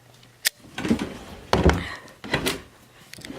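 A wooden dresser drawer full of clothes is opened during a closet declutter, giving a sharp knock followed by heavier sliding thunks and a rumbling pull, then another muffled bump, close and fairly loud.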